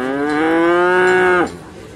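Cattle and young calves at the Gerebak animal market in Magelang regency give one long, loud, close moo that holds steady for over a second before breaking off, with no talk over it.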